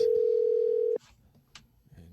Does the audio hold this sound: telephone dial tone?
yes